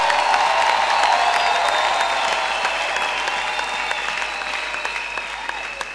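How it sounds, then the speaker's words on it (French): Enthusiastic applause and some cheering from a church audience at a prayer gathering, a dense continuous patter of many hands that stays loud and slowly eases over six seconds. "Nous l'acclamons très fort, nous l'acclamons très fort."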